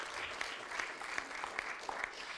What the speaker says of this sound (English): So a huge round of applause for all of the attendees.